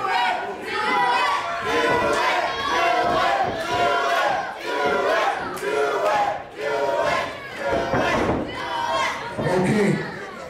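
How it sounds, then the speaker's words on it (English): A large crowd at a Brothers of FUNstruction hammer show cheers and yells in loud surging waves, several swells rising and falling, with someone talking over it. "Until they started cheering, and then I changed my mind."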